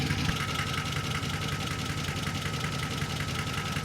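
Neglected 6.0 litre LQ4 V8 engine idling rough and knocking, heard from under the driver door: a constant loud rumble with a rapid ticking clatter throughout, close and steady.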